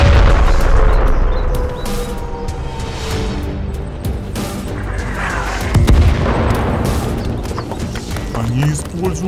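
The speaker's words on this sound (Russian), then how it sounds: "Пристрелочный выстрел, огонь!" A cartoon tank fires a ranging shot from its cannon, with heavy booming blasts and rumbling impacts mixed in among battle noise and shouted voices.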